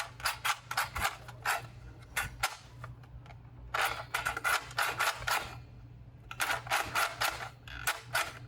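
A toy LMG build's handle and belt puller cycle back and forth, making bursts of rapid mechanical clicking and ratcheting in three runs separated by short pauses, close and fairly loud.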